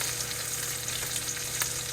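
A ribeye steak is basted as it fries in a pan, giving a steady, dense sizzle with faint spoon scrapes. No one talks over it.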